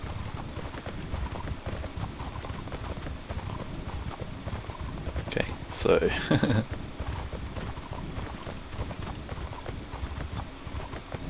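Horse hooves clip-clopping in the online role-playing game Mortal Online, a steady rhythmic patter of clops through the scene with a short whinny midway and someone talking briefly over it.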